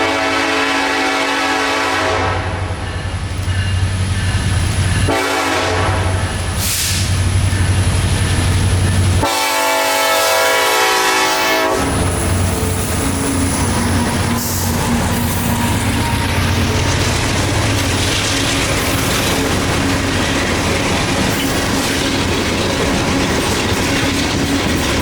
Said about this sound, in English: The head-end power for B631 would include of a BNSF SD70 ACE and a BNSF